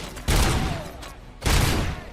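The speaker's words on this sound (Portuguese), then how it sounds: "Nossa, que rajada que sai." Two loud, close bursts of automatic gunfire from the RoboCop: Rogue City video game, each a dense rapid volley that tails off, separated by a short pause.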